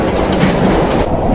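A train rumbles along its rails in an animated show, a loud, continuous rolling clatter close by with no voices over it.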